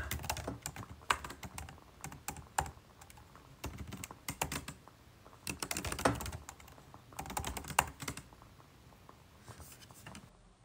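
Rapid clattering keystrokes on a computer keyboard come in irregular bursts and pauses, close and clear, with no talking over them.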